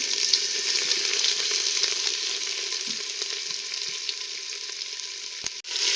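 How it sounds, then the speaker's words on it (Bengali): Dried chillies, bay leaves and crushed ginger sizzle in hot oil with a steady, dense crackle that stays loud and close throughout, broken by a sharp clink near the end. "শুকনো লঙ্কা তেজপাতা ফোড়নে দিয়ে দিলাম থেতো করে রাখা আদাটা দিয়ে দিলাম"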